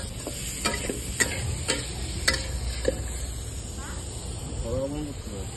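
Pork dry-frying in a wok with no oil, with a steady close sizzle and occasional stirring clatters, while background voices murmur softly.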